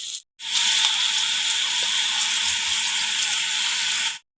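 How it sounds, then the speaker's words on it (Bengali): A paratha dropped into hot oil, a sudden loud, even, hissing sizzle that starts after a brief pause and holds steady for a few seconds before cutting off, with no voices. "এখন আমি পরোটাটা দিয়ে দিই চলো তাহলে ঝটপট ভেজে নিই"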